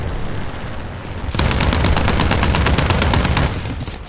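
Rapid bursts of 7.92 mm aircraft machine-gun fire in the air-combat game War Thunder, a dense, loud, continuous rattle that picks up sharply after the first second and runs steadily to the end.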